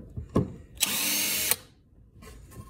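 An impact driver backs a screw out of a piece of wood in one brief, loud whirring burst close by, framed by a few clicks and handling knocks, with no talking.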